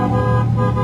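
A single loud car horn blares in one sustained honk on a Manila street, close and steady for its brief duration.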